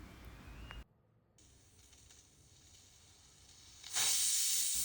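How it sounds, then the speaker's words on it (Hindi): Pressure cooker on a gas stove, lid closed over palak with ginger julienne, gives a steady steam hiss that surges into a loud, bright blast near the end, with no talk. "जैसे ही कुकर 1 सीटी मार देती है आप गैस ऑफ कर दीजिए"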